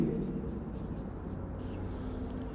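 Writing on a board during a university ring theory lecture, heard as a faint, steady scratching against a low background hum with no talk.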